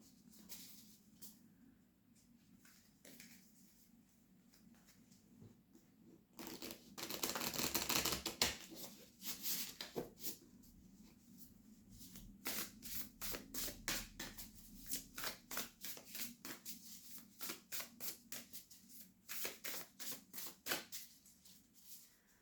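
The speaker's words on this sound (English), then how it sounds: "let's give the deck a good shuffle." Quiet, rapid riffling and clicking of a tarot deck being shuffled, with one louder burst of shuffling followed by a string of crisp, rhythmic card snaps.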